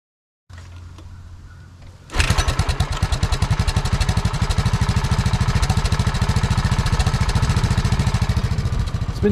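A Honda ATC185s/XR200 engine with a modified top end is cranked over and fires around two seconds in, settling into a loud, close, steady idle with a rapid even pulse and no talk over it.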